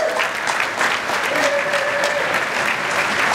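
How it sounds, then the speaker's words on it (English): Group of men clapping and applauding a volunteer at a Kokoda Challenge preparation talk, a thick steady round of claps with a faint whistle or voice tone running underneath. "Give him a clap, boys."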